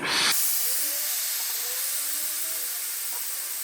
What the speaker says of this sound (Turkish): Uzun süre bir buhar vereceğim.